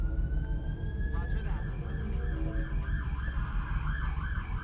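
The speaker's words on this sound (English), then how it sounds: "that siren that just drove by" An emergency vehicle siren in a city street goes by in the distance, a wailing, rising and falling tone with a steady low rumble of traffic beneath it and no speech over it.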